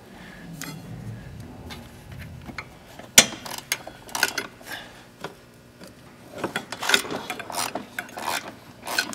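A wrench working on the downpipe back nut of a car, giving scattered metallic clicks, ratcheting ticks and scraping taps, with one sharp louder clank near the middle and busier clicking toward the end.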